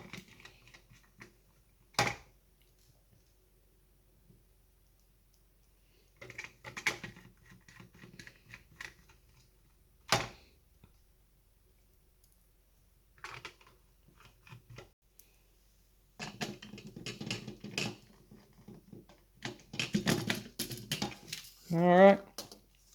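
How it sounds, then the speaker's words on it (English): Small screws are fitted back into an AWM gel blaster, giving sparse, faint clicks and scrapes separated by quiet gaps, with a denser patch of rattling handling near the end. "Pop all those screws back in."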